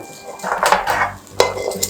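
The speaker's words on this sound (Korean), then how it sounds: "새우 기름이 좀 있는 상태에서 면을 넣어서 좀 볶도록 하겠습니다" Noodles are tossed in a pan with shrimp oil for pad thai, giving several clattering metallic scrapes of a utensil against the pan, close and fairly loud, with brief gaps between strokes.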